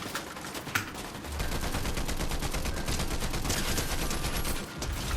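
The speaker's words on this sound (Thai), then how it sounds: "เขายิงกันแล้วว่ะ" Gunfire in the Fortnite battle royale video game, dense rapid shots rattling continuously at close range with a sharp crack near the start, no voices.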